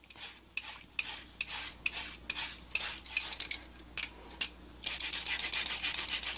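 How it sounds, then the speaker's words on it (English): A carrot is rubbed back and forth against a grater onto a dog's birthday cake, a close, steady series of short scratchy strokes that run together into continuous shredding near the end. "we are going to shred carrot on top"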